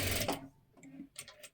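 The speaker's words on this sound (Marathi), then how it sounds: "मध्यावरती बरोबर हे दोन्ही सुद्धा अशा पद्धतीने ठेवून घ्या आणि शिलाई मारून घ्यायची आहे." Sewing machine stitching blouse fabric, a short quiet run of needle clatter that pauses and restarts in quick bursts, close and alone.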